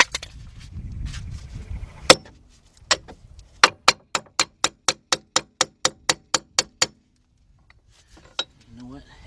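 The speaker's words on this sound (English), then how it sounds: "So what I'm gonna do is take my hammer." A hammer strikes a tool on the front right wheel hub of a 2008 Audi A6 Quattro 3.2, fifteen or so sharp metallic blows in a fast, even rhythm, close and loud, then a pause and one last hit.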